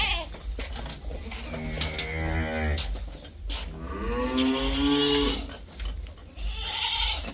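A Jersey cow at a Punjab farm where cattle are being sold lets out two long, loud moos close by, with lower bellowing between and faint farmyard noise behind.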